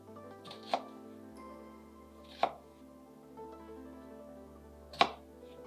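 Three sharp knife chops through an onion bulb onto a cutting board, spaced about two seconds apart, close and distinct over a quiet background hum.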